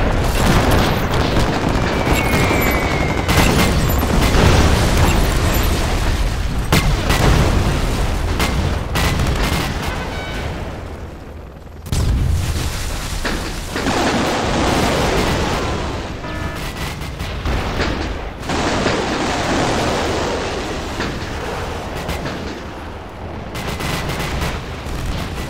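Heavy gunfire and booming explosions from a battle in the strategy video game Generals, a dense, loud, continuous barrage with repeated blasts over the whole stretch.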